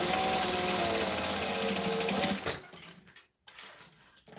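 A home sewing machine stitching a baby bag seam runs fast and steady, then sputters as the back stitch goes too fast, stopping briefly with a few uneven bursts after.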